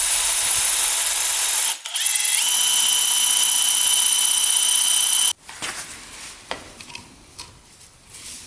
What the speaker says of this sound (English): We're just gonna drill that out.